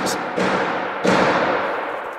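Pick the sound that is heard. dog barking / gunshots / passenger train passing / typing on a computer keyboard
gunshots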